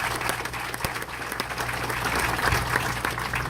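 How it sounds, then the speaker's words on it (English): Dense, steady applause from a crowd at a Veterans Affairs clinic groundbreaking ceremony, filling the room evenly from start to end with no pause. "Let's give them a big round of applause for their leadership"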